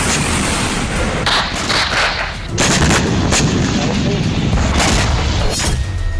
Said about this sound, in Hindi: हमास के लड़ाके सुरंग में मौजूद हैं, वहीं से इजरायली सेना पर मोर्टार से हमले कर रहे हैं।